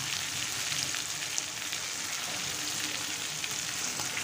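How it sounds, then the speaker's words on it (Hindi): Chopped onion and green chili fry in oil in a rural-style home kitchen, making a continuous, close, even sizzle with faint stirring and no voices. "प्याज एवं लंका कुचिटा हल्का करे आमि भेजे नेब"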